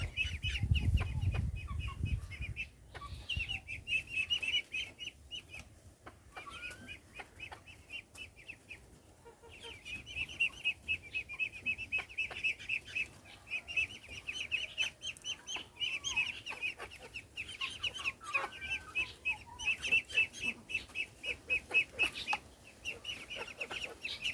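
Two hens, one black and one golden, cluck on and off nearby on a farm, over a constant high-pitched chirping background that briefly drops out before resuming.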